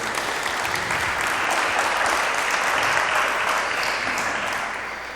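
A church congregation applauds together in steady, dense clapping that swells, holds for several seconds and then fades slightly, with no speech over it.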